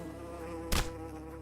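Mosquito enemies in the video game Pale Coins whine with a thin, steady insect drone over layered game music, broken by one short, loud burst at the middle.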